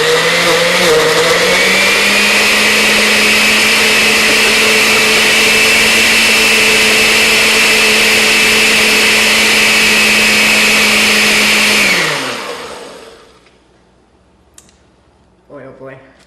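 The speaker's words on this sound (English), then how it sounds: "we're ready to start blending our homemade butterbeer" A blender whirs steadily at full speed through a thick homemade butterbeer mixture for about twelve seconds, then winds down, leaving a few faint clinks.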